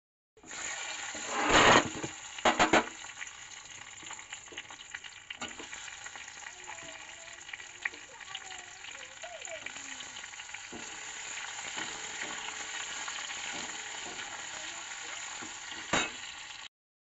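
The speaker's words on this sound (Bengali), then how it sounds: "এটাকে আমি এখন পেঁয়াজটা ভাজাটাও দিয়ে দেবো" Fried onions tipped into a hot pan of oil for a Bengali chilli dish, a loud burst of sizzling at first settling into a steady close frying hiss with occasional clinks of stirring.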